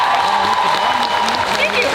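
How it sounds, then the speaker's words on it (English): An audience at a Q&A panel during the FACTS 2024 convention applauds loudly, with scattered whoops and cheers. Voices and crowd chatter mix into the continuous clapping. "Yes, applause for Felicia"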